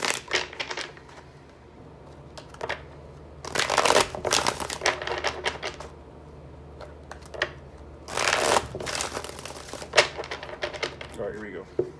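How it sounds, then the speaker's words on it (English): Tarot cards are shuffled in several rapid riffling bursts separated by quieter pauses, close and crisp, with soft talk in the background. "Please, 4 more shuffles."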